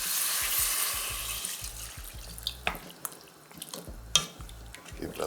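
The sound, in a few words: adding water to curry potatoes in a pan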